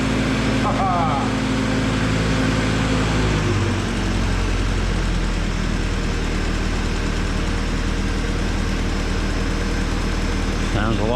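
1955 Jeep CJ5 engine idles with its exhaust manifold fitted, a steady low rumble close by that shifts slightly early on, then holds an even idle throughout.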